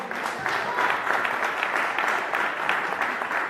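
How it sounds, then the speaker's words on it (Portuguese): Church congregation clapping for the Lord after a baptism, a steady dense patter of many hands held at an even level throughout, with no voices over it. "Pode dar aplauso ao Senhor."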